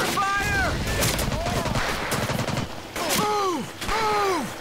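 Gunfire in Medal of Honor Pacific Assault, a dense rattle of rifle and machine-gun shots in a Guadalcanal battle, mixed with whistling, descending projectile sounds and constant war noise.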